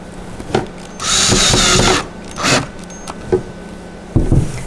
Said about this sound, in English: we're gonna put all these screws into place and put all five of the screws in